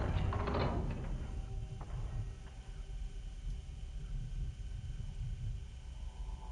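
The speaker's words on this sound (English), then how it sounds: "this is just to open the door" A door-opening mechanism from the horror game Fatal Frame: Mask of the Lunar Eclipse, a grinding ratchet-and-gear churn with a low rumbling bed that runs steadily for several seconds, with no talking over it.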